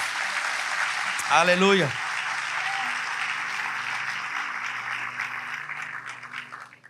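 A church congregation applauds in a sustained, dense wash of clapping that fades near the end, while a voice calls out briefly over it.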